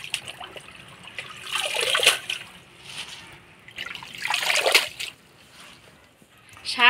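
Leafy greens being washed by hand in water, two surges of splashing and sloshing with trickling in between, close by.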